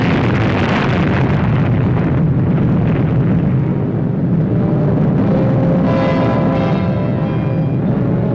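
Deep rumbling roar of an atomic bomb explosion from WWII footage, a loud sustained boom and churning blast noise that fills the whole stretch without easing off.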